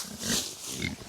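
Kunekune pigs grunt a couple of times while being herded into a new area: soft, close, low grunts with no talk over them.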